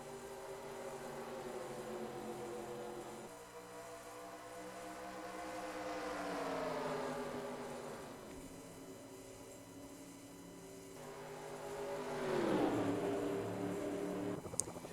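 Stock cars roaring around the Daytona 500 in a racing video game, engine drones rising and falling in pitch as cars pass, steady and loud with no talking.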